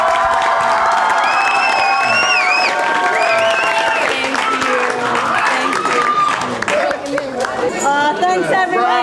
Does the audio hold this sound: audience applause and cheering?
yes